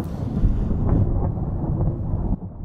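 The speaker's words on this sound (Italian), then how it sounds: "Sentite come rombano i tuoni. Questo suono è fantastico." Deep, continuous thunder rumbling through a storm in a Minecraft realistic-world mod, a loud low roar with faint rain and wind hiss, swelling and fading over a few seconds.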